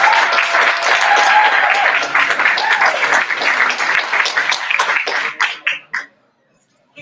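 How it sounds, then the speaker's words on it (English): An audience at a Berkeley poetry slam applauds, dense clapping that carries for several seconds before thinning to a few scattered claps and stopping. "Keep that round of applause going for Lizzie."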